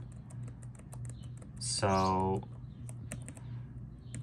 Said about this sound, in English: I'm just using the keyboard to scroll through all of them.